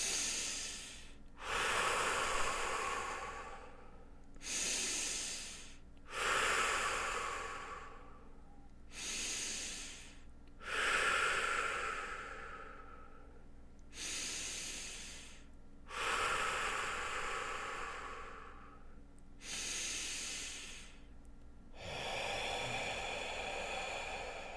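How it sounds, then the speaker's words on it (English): Five slow, deep cleansing breaths in and out, close and breathy, each long airy inhale or exhale separated by brief pauses, with no talking. "right now I'm just going to take 5 deep breaths in and out"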